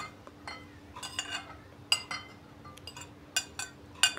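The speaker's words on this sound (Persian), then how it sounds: "دوغ و ماست رو میریزم و کمی هم میزنم" Doogh and yogurt with cucumber stirred in a bowl, a series of light spoon clinks and scrapes against the dish in irregular bursts, close and fairly quiet.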